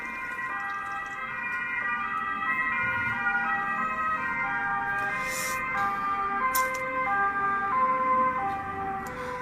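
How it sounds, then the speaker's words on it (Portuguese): An ambulance passes on the street with its siren wailing, a steady rising-and-falling tone at moderate distance over low traffic rumble, with a few brief clicks nearby. "Tá passando a ambulância aqui."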